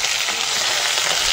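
Five-spice, chopped onion, garlic and small river fish hit hot oil in a pan over a clay stove, giving a dense, steady, loud sizzle close up with no voices.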